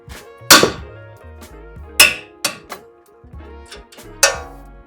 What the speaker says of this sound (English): I'm going to whack here to loosen it up